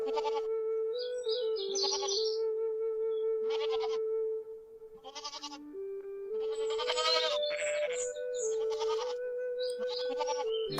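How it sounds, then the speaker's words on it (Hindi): Goats bleat again and again in short wavering calls, loud and close, over a steady humming tone that runs underneath. "रॉक्सी, ओ रॉक्सी, मैं जंगल जा रहा हूँ बकरियां चराने"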